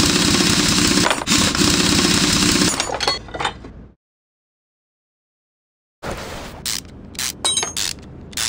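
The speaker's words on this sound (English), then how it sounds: "taking these off. Because, you just smash them with a hammer." Parts are smashed off with a hammer in Car Mechanic Simulator 21, giving loud clanking metallic impacts and breaking sounds, then a few seconds of silence before more sharp clinks and hits.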